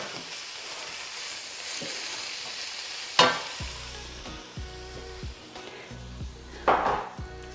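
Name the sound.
stirring sautéed kale with chicken stock in a pan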